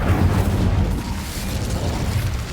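An Incendio fire spell in the wizarding game Hogwarts Legacy goes off as a short, deep, rumbling blast. A booming burst of flame rolls for about two seconds, with no talking over it.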